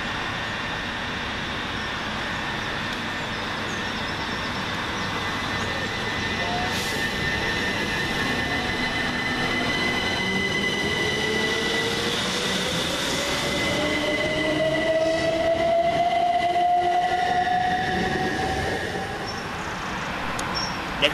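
A Southern Class 377 electric train, unit 377133, departing Goring-by-Sea station on a service from Littlehampton to Brighton, giving a loud steady rumble of wheels on rail with a rising motor whine and squeals, sustained throughout.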